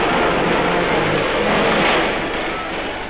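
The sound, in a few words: military helicopter gunships in Vietnam newsreel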